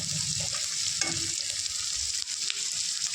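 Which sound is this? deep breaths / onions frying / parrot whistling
onions frying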